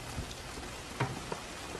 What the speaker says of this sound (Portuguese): não tinha dado uma chuva como essa, viu?